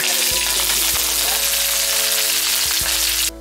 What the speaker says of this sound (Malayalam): ഒരു കാൽ ടീസ്പൂൺ കടുകും കൂടി നമുക്ക് ഇട്ട് കൊടുക്കാം ഇനി അതിലേക്ക് കുറച്ച് വേപ്പില